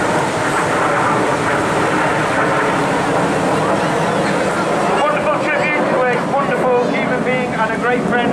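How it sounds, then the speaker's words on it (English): A Spitfire flies past at the Torbay airshow, a loud continuous engine roar that holds steady and shifts in tone as it passes, with a commentator speaking over it. "this is Spitfire."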